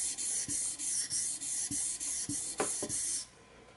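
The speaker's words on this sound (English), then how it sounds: "So do this with a 1000 grit stone or above high grit, because so you don't ruin your pricking irons." A leather pricking iron is rubbed over a 1000 grit sharpening stone in close, rhythmic back-and-forth strokes, about a dozen scraping passes at a steady pace. The strokes end abruptly and no one speaks.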